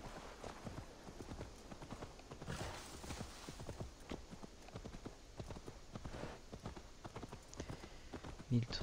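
Hooves of a horse in Assassin's Creed Valhalla clatter in a steady, quick walking rhythm through the whole stretch, fairly close, while someone talks over the game sound.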